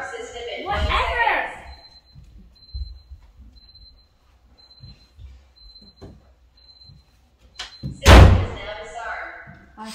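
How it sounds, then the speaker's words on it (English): A house door slammed shut hard during a teenage tantrum, a sharp loud bang near the end following an earlier thud, with people talking and shouting around it indoors. "I'm just going to slam in the door in the house."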